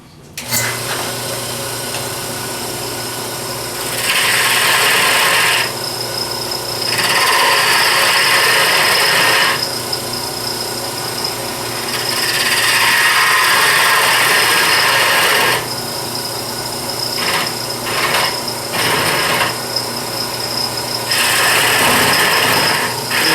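Hand carving of a wooden scoop at a woodworking gathering, with repeated rasping, scraping tool strokes on wood coming in bursts of several seconds over a steady room hum.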